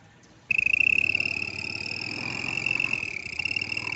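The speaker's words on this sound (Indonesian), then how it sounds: "Akan seperti bunyi jangkrik." A cricket-like whistle fitted to a moving motorcycle starts abruptly and keeps up a steady high chirping tone over the running engine, loud and close throughout.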